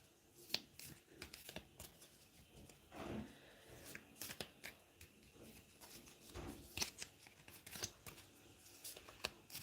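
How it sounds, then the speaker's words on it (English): Heart-shaped oracle cards are shuffled by hand, giving soft, irregular papery riffles and slaps in quick bursts, close and quiet. "Don't know how to shuffle these because the heart shaped."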